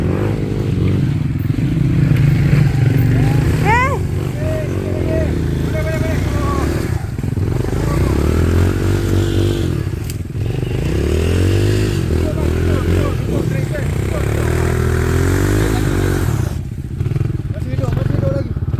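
A motorcycle runs on a steep muddy jungle trail during an off-road ride, its engine loud and close, idling and revving unevenly with clatter and thumps, while riders shout and talk over it.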